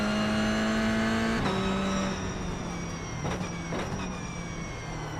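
A race car engine at Tsukuba Circuit in a racing game holds a high whine, then drops through a couple of quick downshifts, with brief revving blips over steady road noise.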